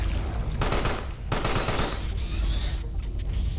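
Rapid automatic fire from a turret in the video game Carrion, two dense bursts of clattering shots in close succession, loud and up front, then trailing off into a fading mechanical hum.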